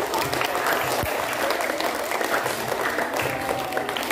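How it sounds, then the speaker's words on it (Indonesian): Schoolchildren on a study tour in Mojokerto clap together, a continuous burst of applause from a group in a lively room, with some voices mixed in. "Oke, tepuk tangan."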